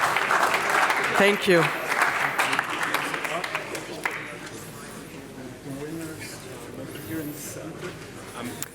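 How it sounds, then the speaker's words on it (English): Audience applause for award nominees at an award ceremony, a burst of clapping that tails off as a voice speaks briefly over it, with the hall quieting afterward. "And also a big round of applause also for you."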